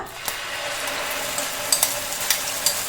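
Ground onion paste sizzling in hot oil for Kerala-style chicken pollichathu, a steady broadband frying hiss with a few sharp spits and stirring clicks toward the end, close and moderately loud with no talking.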